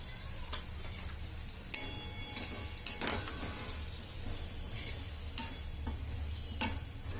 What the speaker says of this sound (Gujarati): મસાલો તૈયાર કરેલ ચણાનો લોટ ઉમેરીશું. અને સારી રીતે ચલાવી લેશું.